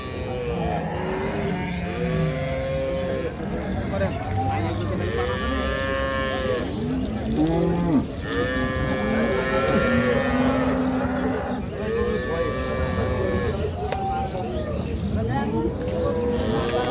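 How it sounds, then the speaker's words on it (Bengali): Crossbred Holstein Friesian dairy cows moo repeatedly, long drawn-out calls close by, overlapping with people talking and general farmyard noise. "ক্রস জাতের গাভী ক্রস জাতের বাচ্চা"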